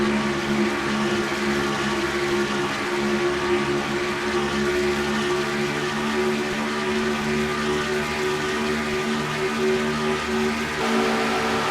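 Stock race cars in a racing video game at Atlanta drone steadily through turns one and two, a loud continuous engine hum holding even pitch throughout with no talking.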